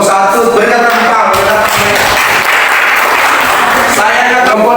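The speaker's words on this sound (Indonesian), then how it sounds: "Untuk kelompok 1 berikan tepuk tangan" Students in a classroom applaud a group of classmates, a loud, dense burst of clapping lasting several seconds with voices and chatter mixed in underneath.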